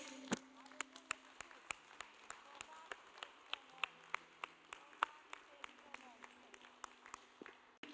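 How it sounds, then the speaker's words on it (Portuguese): A church congregation claps during a Thursday worship service, sharp scattered claps ringing out over a steady low murmur of voices, some claps louder and nearer than others. "Uma salva de palmas para o nosso Deus."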